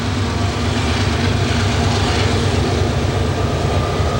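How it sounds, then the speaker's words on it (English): A loaded ethanol freight train rolls past heading east, a steady close rumble of wagons on rails with a continuous dense roar and faint clatter, no voices. "This is an ethanol train."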